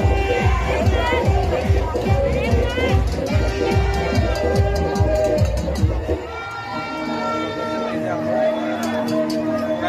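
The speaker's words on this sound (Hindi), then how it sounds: "तो फ्रेंड्स आप देख सकते हैं बहुत ज़्यादा भीड़ है" A large, dense crowd at a Durga Puja pandal in Sonbhadra (Robertsganj), loud and continuous babble with shouting and cheering throughout, thinning slightly toward the end.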